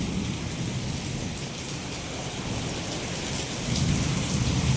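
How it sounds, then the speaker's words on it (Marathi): Heavy monsoon rain pours down during a village puja gathering in a thunderstorm with strong wind, a dense, steady roar of downpour with a low rumbling undertone that swells slightly louder near the end. "वादळ पण सुटलं आहे आणि पाऊस पण सुटला आहे. विजा पण चमकतात कडकते."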